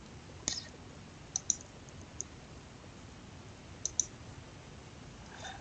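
A handful of soft, sharp computer mouse clicks on an OK button, scattered across a quiet room background, some single and some in quick pairs.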